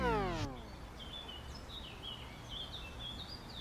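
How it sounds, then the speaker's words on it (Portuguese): Small birds chirp and twitter faintly in quiet rural ambience, scattered high calls over a low outdoor hush, briefly preceded by a fading musical tone. "Ouve esses passarinhos, esses cavalos passando pela rua, essa calmaria toda de ambiente rural"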